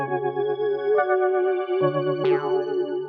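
Finished trap melody built from a soft synth pad preset run through RC20 effects, EQ'd to remove lows and highs: sustained layered chordal tones with shifting notes, a rising sweep near the end, steady and moderately loud.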